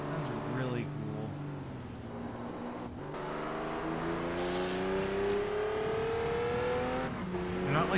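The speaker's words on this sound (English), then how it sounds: "I will say the engine noises in this game are phenomenal, like even by modern standards." A car engine in the video game Test Drive Unlimited 2 on PS3 revs and climbs steadily in pitch over a constant motor drone, with voices talking faintly underneath.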